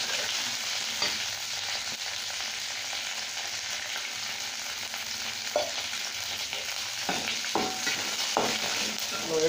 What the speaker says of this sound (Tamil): கடுகு போட்டு தாளிக்கறோம் எண்ணெய் சூடான உடனே நல்லா கடுகு பொரிஞ்சு வந்த உடனே நம்ம கொத்தமல்லி கருவேப்பிலை கொஞ்சம் போட்டுக்கலாம்